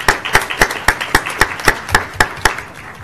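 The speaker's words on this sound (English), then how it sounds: "I would like to just give them a round of applause for that" A small group at a board of education meeting claps in a slow, even rhythm of about a dozen distinct sharp claps, moderately close, with faint background murmur.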